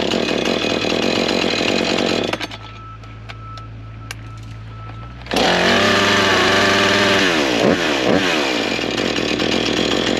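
Husqvarna chainsaw roaring at full throttle, dropping to a low idle for a few seconds, then revving hard again with wavering engine pitch, close and loud throughout with no talking.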